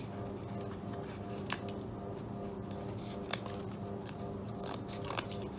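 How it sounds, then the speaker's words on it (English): Scissors snip through recycled material for a craft project, a few sharp, isolated cuts spaced a second or two apart over a soft, steady background hiss, close by with no voices. "Just whatever way you want to cut, you can cut it."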